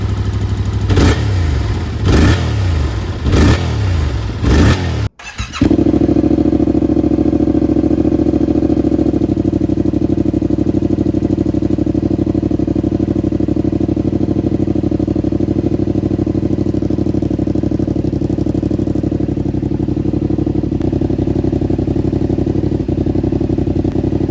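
A few short cranking bursts, then a 2022 Yamaha R7 motorcycle with an aftermarket full exhaust fires up and settles into a loud, deep, steady idle that runs on alone.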